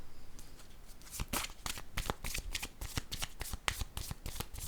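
Cards for a tarot-style reading are shuffled and drawn in a quick run of soft riffling flicks and snaps, close and quiet, with no talk.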